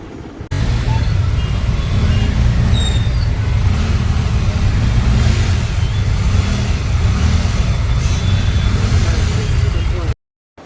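Heavy road traffic in a big jam rumbles steadily for about ten seconds during an auto rickshaw ride to a station, a loud continuous engine drone with faint horn toots above it.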